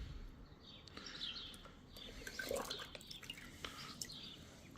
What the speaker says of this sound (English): My job right now is just to water them